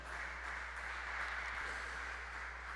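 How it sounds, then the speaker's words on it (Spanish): A church congregation applauds, a faint, steady wash of clapping from a distance over a low mains hum. "Dele fuerte el aplauso al Señor."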